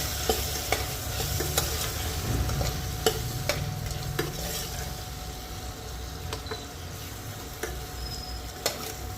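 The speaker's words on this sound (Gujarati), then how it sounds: "થોડો ગરમ મસાલો, મસાલાને બધા મિક્સ કરી લો" Garam masala being stirred into a mixed-bean khichdi with potatoes in a pot, a soft continuous sizzle broken by irregular scraping strokes of a spoon, close and fairly quiet.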